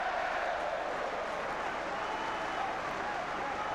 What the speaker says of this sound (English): the York fans not only cheering every pass, they're cheering every breath of their heroes at the moment